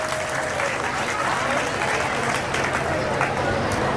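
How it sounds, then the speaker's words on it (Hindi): An audience applauds the principal at a school annual function: dense, steady clapping from a large crowd, loud and continuous throughout without pause. "एक बार जोरदार तालियां आप सभी बजाएंगे।"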